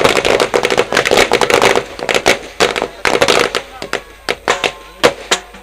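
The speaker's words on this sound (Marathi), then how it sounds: "नक्कीच आपण पाहिला फटाक्यांची आतिषबाजी." Firecrackers burst in rapid chains at a cricket tournament match to greet an arriving guest, loud dense crackling at first, then thinning into separate sharp bangs, with voices faintly underneath.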